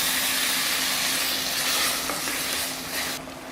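Steady loud sizzling of onions and tomatoes frying in a hot pan for sambar, a continuous bright hiss that eases slightly at the end.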